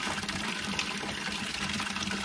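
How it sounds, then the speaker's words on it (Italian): Water pours steadily into a tank fitted with a float switch that triggers a pump, a continuous close gushing and splashing fill with no pauses and no voices. "man mano che si riempie lui si solleva e poi automaticamente parte la pompa"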